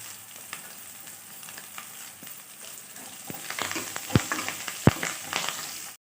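Dried red chillies and curry leaves fry in hot oil for a Telugu dal dish, giving a steady crackling sizzle that grows busier partway through, with a few sharp pops and spatula knocks near the end; no one speaks.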